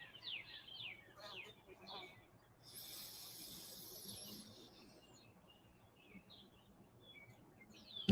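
Outdoor birdsong of scattered chirps and short calls, faint and distant, under a soft background with quiet talk.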